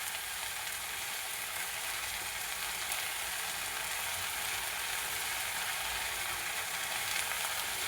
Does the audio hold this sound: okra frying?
yes